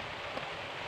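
Rain falling outdoors near a Suzuki GD 110 motorcycle, a brief hissing patter of steady drops with one faint tap, and no talk.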